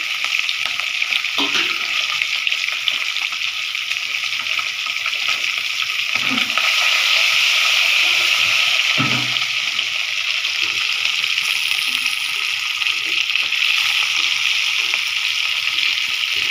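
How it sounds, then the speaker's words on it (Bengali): Onion frying in a pan with turmeric and salt for a spicy egg curry, giving a steady, loud broadband sizzle that hisses throughout, with a few soft low knocks from stirring. "এই তো পেঁয়াজটাকে একটু ভেজে নিচ্ছি, তারপর ময় মশলা দিয়ে কষাবো আর কি।"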